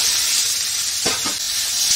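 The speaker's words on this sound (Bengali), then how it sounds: "এখন আমি লাল লাল করে পেঁয়াজটা ভাজবো।" Chopped onion sizzles steadily in hot oil seasoned with cumin and a pinch of sugar, a constant close hiss with a brief stirring scrape midway.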